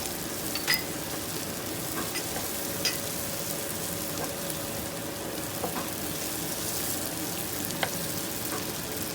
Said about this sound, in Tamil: நாங்கள் போட்ட மிளகாயெல்லாம் நல்லா வதங்கி கொண்டு இருக்குது